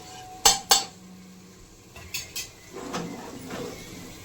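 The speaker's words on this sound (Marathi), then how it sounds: "एकदम मस्त असं एकजीव करून घेते फिरून घेते" A metal spoon clinks and scrapes against a pressure cooker while chicken biryani mixture is stirred, giving two sharp knocks early and then a few softer clatters and scrapes, close up and quiet between strokes.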